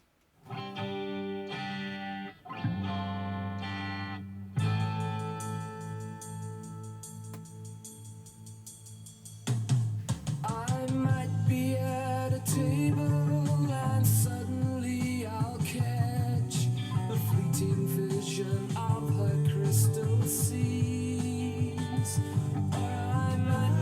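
A rock band plays a song with guitar, bass and vocals; a sparse, thin opening swells into a fuller, louder full-band section.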